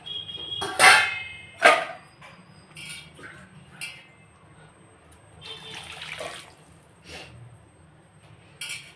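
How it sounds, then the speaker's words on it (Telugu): Water splashes into a pot of goat head curry in a few loud pours, followed by quieter sloshing and light clanks of a vessel, with no talking. "నీళ్ళు పోస్తున్నా."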